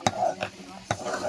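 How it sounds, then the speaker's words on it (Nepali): Millet dhido dough being stirred and pressed in a pot, three soft scraping strokes with thuds spaced under a second apart, close and moderately loud. "अब चाहिँ यसलाई चाहिँ यसरी मस्काउने। मम्मीले चाहिँ मस्काउँदै हुनुहुन्छ।"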